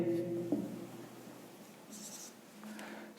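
A marker squeaks and scratches across a surface in short strokes, fairly quiet and close, with faint background noise between the strokes.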